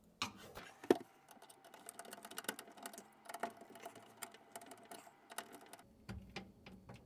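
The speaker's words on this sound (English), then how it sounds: "once we get them pretty close, we'll go ahead and tighten with the screwdriver" A screwdriver tightens nuts and screws while a reverse osmosis water filter system is installed. Faint close scratchy clicks and ticks come in irregular bursts with small knocks, and there is no talk.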